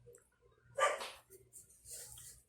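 A small female dog gives one short, sharp bark, then softer yips and whimpers follow. The sounds are faint and come in a quiet indoor room, and no one speaks.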